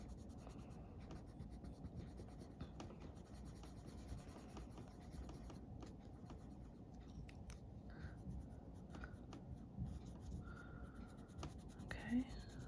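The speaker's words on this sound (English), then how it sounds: "if you're using pencil crayons, you might have to go over it a couple of times to get it dark enough" Pencil crayons scratch and rub steadily across a Christmas gnome card being coloured in, making a faint, close, continuous scribbling rasp with no other sounds.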